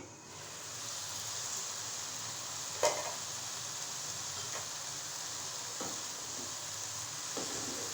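Vegetables for fried rice cooking in a pan over low heat, giving a steady soft sizzle with a few faint clicks of stirring, heard alone.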